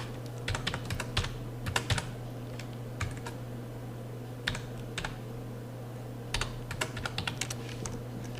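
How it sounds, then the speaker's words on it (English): An ID number being typed on a computer keyboard, with short bursts of crisp, close key clicks separated by pauses over a quiet electrical hum. "Okay, so you type in the ID number."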